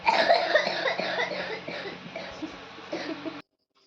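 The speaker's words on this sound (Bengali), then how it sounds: "আবার কাশি হয়েছে দেখে কাশছে" Repeated close coughing, several rough bursts in a row lasting a few seconds, then abrupt silence.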